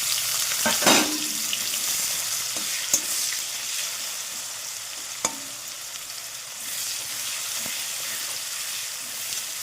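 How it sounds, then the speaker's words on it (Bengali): Onions frying in hot oil with cumin, dried red chilli and bay leaf for a rohu fish kalia, a continuous close sizzle with occasional sharp spoon knocks and stirring. "ফোড়নে দিচ্ছি জিরে শুকনো লঙ্কা তেজপাতা দিয়ে দেবো পেঁয়াজটা পুরো লাল লাল করে ভেজে নেব"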